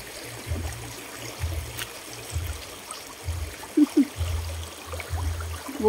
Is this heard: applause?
no